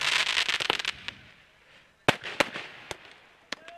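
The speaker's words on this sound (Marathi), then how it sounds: "फटाक्यांची आतिषबाजी थांबल्यानंतर" Fireworks go off at a cricket tournament final before the toss. A dense crackling volley in the first second gives way to quieter fizz, then a handful of sharp, separate bangs ring out from a moderate distance.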